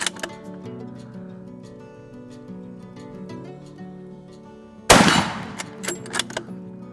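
A single 7mm Magnum rifle shot cracks out loud and sharp after quiet background music, followed by a rolling echo and scattered reverberating pops.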